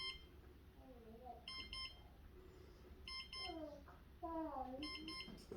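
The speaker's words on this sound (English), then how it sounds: "You wait for it to beep, you push the fingerprint sensor a bunch of times, and you kind of rotate your finger in between each beep." A fingerprint sensor on a phone gives short, evenly spaced electronic beeps during enrollment, several in a row under quiet talk and faint background hiss.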